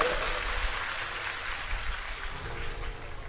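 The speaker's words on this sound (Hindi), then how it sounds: "जोर से तालियों से स्वागत करिए।" An audience at a religious discourse gathering applauds to welcome someone, a soft, steady wash of clapping heard at a distance.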